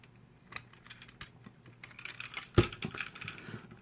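Plastic parts of a Machine Wars Starscream toy being folded: a string of small close clicks and taps, with one sharp louder snap partway through.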